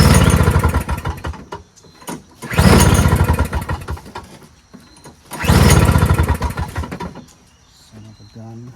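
A Briggs & Stratton engine on a Toro CCR2450 single-stage snowblower is pulled and sputters in repeated bursts of a few seconds each before dying back. Someone talks in between the attempts.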